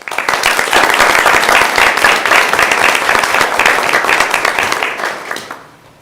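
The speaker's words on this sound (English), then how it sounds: "One last round of applause" Applause from the audience at a school board meeting honouring a long-serving elementary school staff member: sustained, dense clapping from a sizable room, steady for about five seconds before tapering off.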